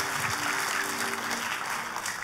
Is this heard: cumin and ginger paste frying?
no